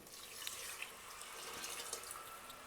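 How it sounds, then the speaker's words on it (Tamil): Water pours into a cooking pot for mutton biryani, a steady close splashing stream with small gurgles and drips running the whole time. "இந்த டைமில் இந்த பிரியாணிக்கு தேவையான தண்ணி வைக்க போகிறேன்"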